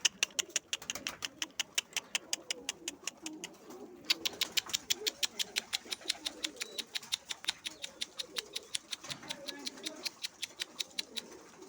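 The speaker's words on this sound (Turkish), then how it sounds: "Burada da uçurduğumuz kuşlarımız var. Onları da içeri alacağız şimdi." Pigeons fly back to a rooftop loft in Istanbul, with a fast, steady run of sharp clapping pulses like wingbeats lasting throughout, close and fairly loud, and soft cooing in the background.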